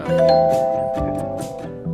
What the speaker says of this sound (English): That's an interesting chime for a manual clock.